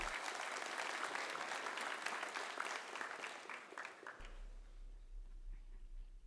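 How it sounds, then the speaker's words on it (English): Crowd applause for the coaches at a high school softball graduation ceremony, a steady wash of many hands clapping for about four seconds before fading out abruptly into quiet room noise. "Let's give them a round of applause."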